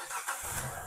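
A rebuilt car engine catches and starts, a brief burst of mid-pitched engine noise settling into a quiet, smooth run.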